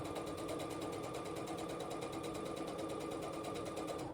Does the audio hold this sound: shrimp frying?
no